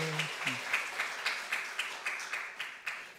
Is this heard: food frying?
no